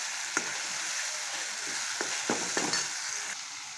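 Ground masala paste for misal sautés in a pan, making a low, continuous sizzle with occasional soft stirring clicks, close and quiet with no talk.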